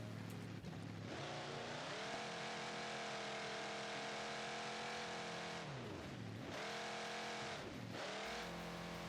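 A car engine in a racing video game revs continuously and loudly, with its pitch climbing through the gears and dipping briefly twice as the car shifts.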